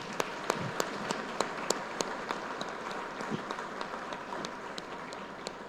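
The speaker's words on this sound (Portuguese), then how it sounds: "Uma forte salva de palmas, irmãos." Church congregation applauding in a fairly distant room, with scattered sharp individual claps standing out over a softer continuous patter of hands, moderately quiet overall.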